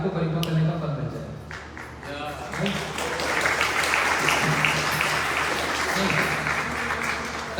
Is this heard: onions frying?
no